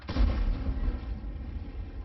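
A single tank cannon shot in the online game World of Tanks, from a Tier X vehicle, booms loud and close at the start and then rolls off into a long, fading low rumble with no talking.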